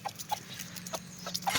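Bantam chickens eating cicada shells outdoors, giving soft, quiet clucks and a few short sharp pecking clicks spaced apart against a low background hum.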